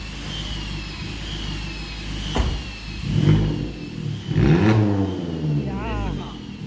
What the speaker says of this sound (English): this is just revving